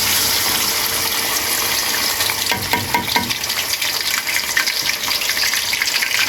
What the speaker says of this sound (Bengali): আদা রসুনটা ভালো করে ভিজে নেবেন ঠিক এভাবে ভালো করে ভেজে নেবেন